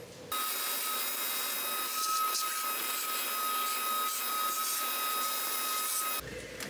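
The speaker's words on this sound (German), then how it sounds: "werde ich jetzt mit dem Staubsauger alles sauber machen" A vacuum cleaner runs steadily inside a 1994 Ford F-150 XLT during interior cleaning, a loud continuous whine with a high tonal hum that starts abruptly and cuts off near the end, with no voices.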